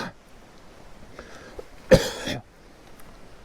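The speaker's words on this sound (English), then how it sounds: "I covered the camera from my cough." A single sharp cough bursts out, close and loud, after a swallowed fly, with a faint throat-clearing sound before it, outdoors on a quiet road.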